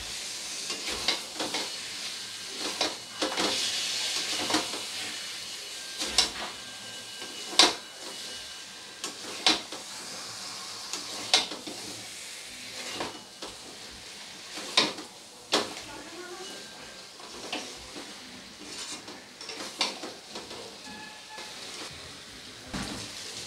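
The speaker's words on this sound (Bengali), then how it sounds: "পটলগুলো দেওয়ার পরে খুব ভালোভাবে মশলার সাথে আবারও একবার কষিয়ে নিয়েছি পটলগুলো দিয়ে" Pointed gourd (potol) pieces fry in masala over a high flame for a potol korma, giving a steady close sizzle and hiss broken by repeated sharp clicks and scrapes of a spoon stirring in the pan.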